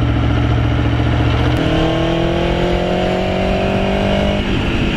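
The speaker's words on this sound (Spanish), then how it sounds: "Fíjate si tiene que ser potente la moto" A loud, close Aprilia Tuono V4 1100 RR sport motorcycle engine drones steadily, shifting up in pitch midway and holding a high, strained whine before easing slightly at the end.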